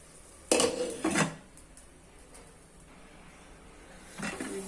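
A metal pot lid clatters down onto a cooking pan with two sharp clanks close together, a quieter stretch, then another metallic knock near the end.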